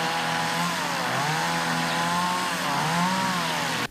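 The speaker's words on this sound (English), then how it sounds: "volunteers showing up breaking out chainsaws" Volunteers' chainsaws cut through tree branches, a loud continuous buzzing whine whose pitch dips and rises as the blades bite into the wood, close by with no talking.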